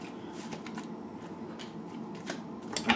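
A deck of tarot cards is shuffled close up, with soft repeated riffling and sliding bursts at an uneven rhythm and no talking.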